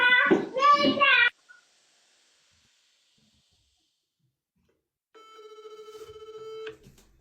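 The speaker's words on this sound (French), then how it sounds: "Jarabi, décroche." A telephone rings once in a steady, buzzing electronic tone lasting over a second, heard clearly after a brief burst of talking and a long silence.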